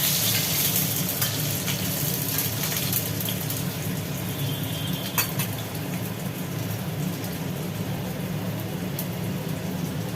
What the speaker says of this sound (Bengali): এবার তেলের মধ্যে আলুগুলো দিয়ে আলুগুলো ভাজা হচ্ছে